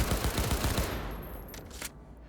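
Fully automatic gunfire in the video game Cyberpunk 2077, a dense rapid burst that rattles loudly at the start and then thins out into a fading tail of scattered shots.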